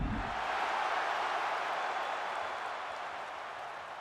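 A sold-out arena crowd in the WWE 2K25 wrestling video game cheers in a dense, steady roar that eases slightly toward the end, with no voices standing out.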